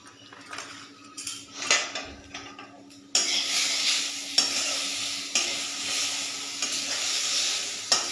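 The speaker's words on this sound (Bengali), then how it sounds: "তো পেঁয়াজ লালচে করে ভাজা হয়ে গেছে, এবারে আদা রসুনের পেস্টটা দিয়ে দিই।" Ginger garlic paste hits browned onions in a hot pan, giving a steady sizzle with repeated spoon scraping and stirring clatter against cookware, close and fairly loud after a quieter start.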